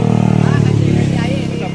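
A motorcycle runs close by during a bicycle birthday race at C5 Extension, Las Piñas, its engine a steady loud drone under shouting voices for the whole short moment.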